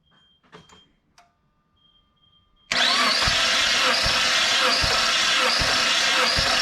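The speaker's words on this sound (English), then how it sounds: "Now we're in hole number 4, and we'll watch as she cranks it over" After a near-silent lead-in with faint clicks, a Suzuki SX4 engine suddenly cranks over during a compression test on cylinder four, giving a loud, continuous whirring roar with regular thumping pulses.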